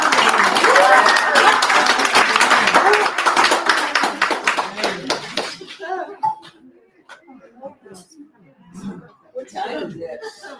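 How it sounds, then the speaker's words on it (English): Dense audience applause after a lecture, loud and continuous for about five seconds, then thinning into scattered claps, chuckles and murmuring talk. "Let's give her a round of applause."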